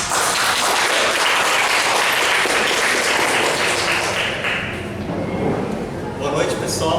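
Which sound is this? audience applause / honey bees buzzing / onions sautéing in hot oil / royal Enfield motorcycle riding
audience applause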